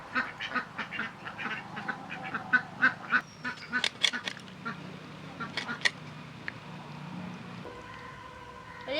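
Several ducks quack loudly and repeatedly in a rapid, overlapping chorus, excited by the smell of fish heads, with a few sharper calls standing out close by.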